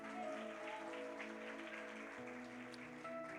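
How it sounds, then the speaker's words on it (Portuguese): A church congregation applauds together at a live evening worship service, a steady wash of clapping over sustained organ-like keyboard chords that shift partway through. "Eu quero que você dê uma salva de palmas para a mãe de Isa."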